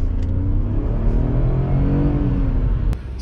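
A 2023 Tata Punch CNG car pulling away in first gear, its engine humming loudly and steadily up close as it gains revs, with a brief sharp click near the end.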